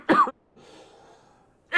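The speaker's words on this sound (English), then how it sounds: "Early morning coughs." A person coughs sharply twice, one burst at the start and another at the end, loud and close, with a brief quiet rustle between them.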